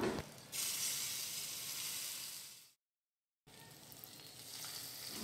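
A ghee tempering for sambar rice sizzles loudly as it is poured over rice in a cooker and stirred, a bright steady hiss broken by a short silence before the frying resumes, with no talking.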